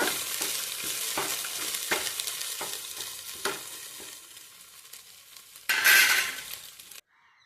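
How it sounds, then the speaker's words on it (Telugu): Tamarind leaves fry in oil in an uncovered pan, with a steady sizzle and rhythmic stirring taps. A brief, louder burst of sizzling comes near the end before the sound cuts off. "ఇది కూడా మూత పెట్టకుండానే వేపుతున్నాను దీన్ని కూడా"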